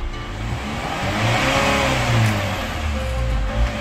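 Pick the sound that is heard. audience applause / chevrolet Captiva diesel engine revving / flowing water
chevrolet Captiva diesel engine revving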